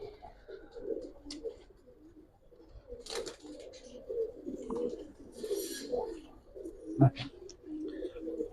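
Giribaz pigeons coo in a loft, with repeated soft, throaty coos and occasional wing rustles and chirps over a low background, interspersed with faint distant voices.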